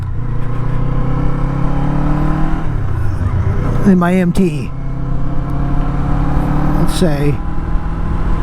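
A Kawasaki Eliminator 500 motorcycle engine runs with a steady, buzzy drone while riding, rising in pitch a couple of times as it revs, under a rider talking throughout.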